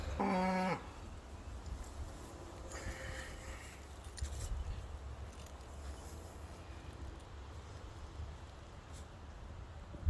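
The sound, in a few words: cows mooing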